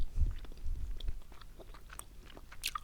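Honeycomb candy is chewed close to the mic, with soft crunchy bites and sticky mastication, quiet and alone.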